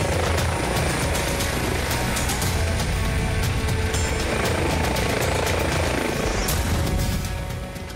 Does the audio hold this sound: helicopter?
yes